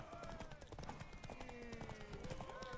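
Horse hoofbeats clop steadily at a riding pace in The Witcher 3, a continuous rhythmic trot under faint game music, with no voices over it.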